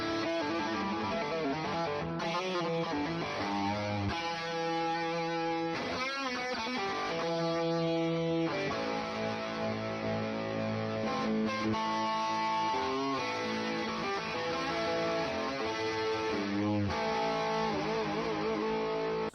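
Electric guitar played through the Neural DSP Morgan amp suite with an overdrive pedal in front, a loud, steady run of driven chords and sustained notes that fills the whole stretch without talk.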